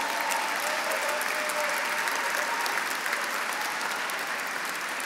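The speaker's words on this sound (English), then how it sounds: "Give them a round of applause." An audience at a gala dinner applauds with a dense, sustained clapping throughout, steady and moderately loud with no break.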